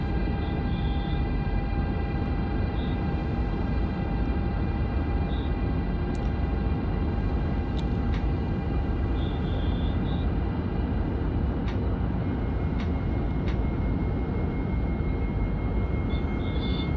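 A steady, continuous rumbling drone of a BR186 electric locomotive running at speed in Train Simulator 2021, with faint tonal hums and occasional clicks, no voices.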